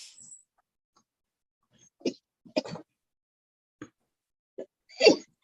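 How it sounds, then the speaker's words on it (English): A person sneezes during a casual online call, a few short bursts spread across several seconds with quiet gaps, the loudest burst near the end, close and clear with no speech over it. "Are you sneezing?"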